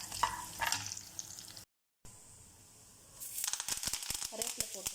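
Chana dal, urad dal, dried chillies and coriander seeds frying in oil for sambar, crackling sizzle with stirring clatter, broken by a brief silence, then a busier burst of scraping and popping, close.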